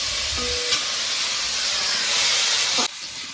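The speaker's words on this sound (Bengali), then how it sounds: "আলুগুলো দিয়ে দিয়েছি সামান্য একটু লবণ দিয়ে দেবো আলুগুলো লাল লাল করে ভেজে নেবো" Potatoes going into hot oil with two whole dried chillies, a loud steady sizzle and hiss that fills the space close up and drops off sharply near the end.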